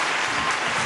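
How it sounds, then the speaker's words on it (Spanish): Crowd applause breaks out as the Jesús el Pobre procession leaves the church: a dense, close burst of many hands clapping together, loud and continuous. "los primeros aplausos"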